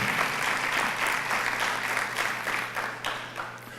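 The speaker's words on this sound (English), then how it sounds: "So a round of applause to my team" Applause from an audience at a Motor City Match business press conference in Detroit, a steady, lively round of clapping that gradually thins toward the end.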